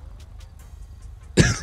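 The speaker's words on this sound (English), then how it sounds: "As you guys can tell, I'm still coughing." A single sharp cough bursts out near the end, close and loud, after a quiet stretch of faint rhythmic ticking and low background hum.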